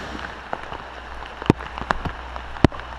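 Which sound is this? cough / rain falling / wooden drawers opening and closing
rain falling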